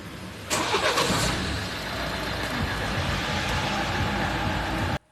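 Cars struggle through snow on Büyükşehir Street in Sarıyer, Istanbul, some skidding: a car engine revs hard with a burst of wheel spin, then settles into a steady, strained drone before cutting off.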